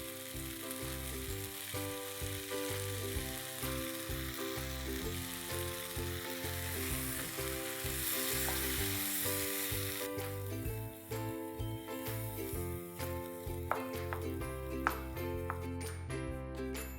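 Homemade malai skimmed from milk sizzles in a pan over a lowered gas flame for a malai pyaz sabzi, a steady frying hiss with stirring and faint scrapes, loud and close, no talking.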